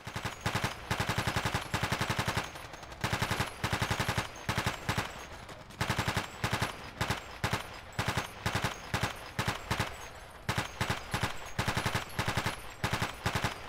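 Rapid automatic weapon fire from Battlefield 2 Special Forces during a night mission, loud sustained bursts of machine-gun shots with only brief pauses between strings.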